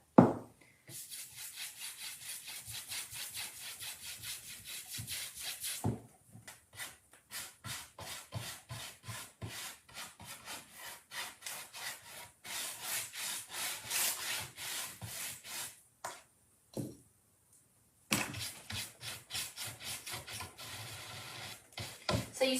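Clear wax rubbed by hand across painted wood, a steady back-and-forth scrubbing with rhythmic strokes, close and fairly loud, with brief pauses between bursts of rubbing.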